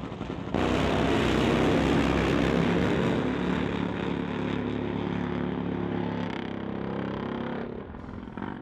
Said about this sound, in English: Here we go, Top Fuel Harley, first pair in round number 3 of qualifying.